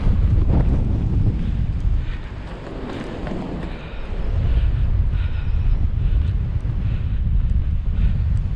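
Strong headwind buffeting the microphone during a half marathon run, a loud continuous low roar that dips briefly and then returns, with no talking over it.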